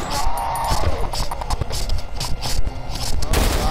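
Gunfire in the horror video game Cry of Fear, a rapid series of sharp, close shots and mechanical clatter repeating throughout with uneven rhythm.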